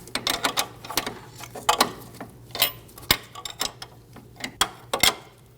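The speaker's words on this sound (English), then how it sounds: "Hold the stud using a 5mm Allen and snug the nut down." A wrench ratchets in quick clicking bursts while a nut is snugged down on a sway bar link stud of a 2012-2022 Volkswagen Passat front suspension. Close, sharp metallic clicks and taps come in irregular clusters.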